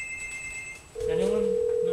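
A Telstra touch phone rings with an American-style ringtone, a steady tone starting about halfway through, with faint high tones and background noise before it.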